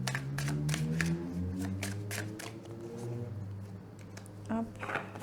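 Tarot cards shuffled and drawn, a run of quick riffling flicks and soft card slaps, close by, under someone speaking throughout.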